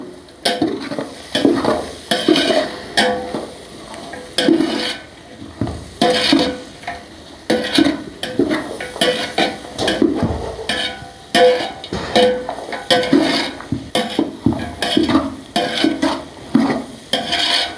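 A spoon scrapes and stirs food in a sizzling pan, with repeated rhythmic clinks and scrapes against the metal and a quiet frying hiss underneath.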